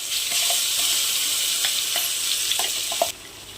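Ground pirandai (veldt grape) paste sautés in oil with mustard seeds, a continuous close sizzle with soft stirring scrapes that cuts off abruptly near the end.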